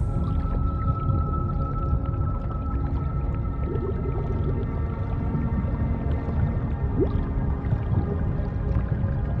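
Whale calls drift through a steady wash of ambient sound in a relaxation track, with low, faint moaning tones and a brief rising sweep rather than distinct loud cries, continuous from start to end.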